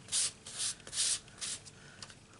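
An embossing buddy is rubbed back and forth over card stock in quick, soft scrubbing strokes, roughly five close, faint swipes in a steady rhythm.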